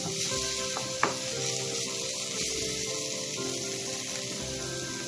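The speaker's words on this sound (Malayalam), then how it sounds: "അതൊന്ന് ഇതില് ചെറുതീരിട്ടിട്ട് ഒന്ന് വെന്തുടയുന്ന വരെ നമുക്കത് ഇളക്കിയെടുക്കാം" Prawn masala with chopped tomato frying over low heat in a pan, a continuous soft sizzle with a sharp utensil tap near the start and gentle stirring scrapes throughout.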